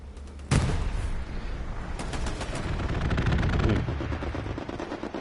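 Sustained rapid machine-gun fire from a strafing run in a video game scrim, opening with a sharp burst and then rattling continuously and loudly for several seconds with no talk over it.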